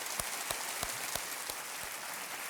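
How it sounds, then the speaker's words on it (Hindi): A studio audience on the quiz show Kaun Banega Crorepati gives a faint, distant round of applause that sounds like a soft rain-like patter with a few sharper claps poking through. "और एक बार फिर सुषमा जी के लिए ढेर सारी तालियां।"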